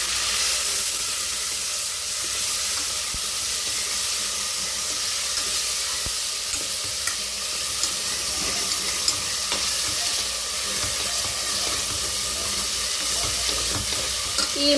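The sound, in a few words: stirring ginger, shallots, green chilies, onion paste frying in oil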